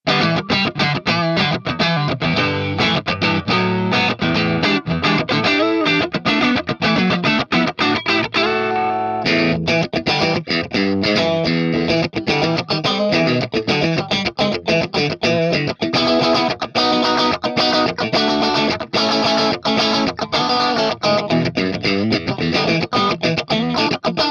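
Electric guitar played through a Hotone Ampero modeler set to a Marshall Silver Jubilee clone with a Greenback cabinet impulse response, a dense, driven, continuous riff with crunchy distortion and no talking.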